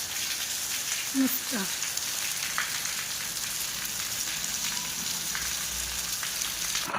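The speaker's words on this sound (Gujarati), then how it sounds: "પાંચ વાગ્યાનો એકદમ વરસાદ ચાલુ થઈ ગયો પાછો" Steady, dense hiss of heavy rain pouring down, continuous and even throughout, with a faint brief voice-like sound early on.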